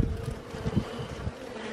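Honey bees in a beehive box make a dense, continuous low buzzing hum, close and steady, with a few louder passes of individual bees.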